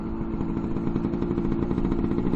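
A Lambretta S1 scooter engine with a 5-speed gearbox runs steadily close by after a gear change, a buzzing, slightly rattly two-stroke drone holding a constant pitch with no voices.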